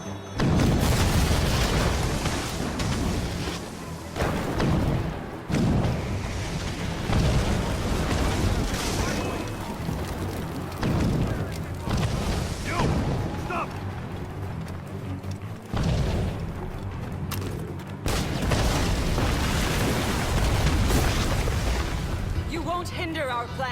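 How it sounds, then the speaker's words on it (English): Mortar explosions boom in Assassin's Creed Rogue, heavy repeated blasts and rumbling detonations layered with dense game sound and voices throughout, loud and continuous. "Chevalier is using mortars to stop Shay!"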